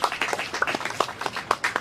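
A small group claps for the SLBC board at a broadcasting house studio commissioning, with loose, uneven individual hand claps close by and fairly sparse.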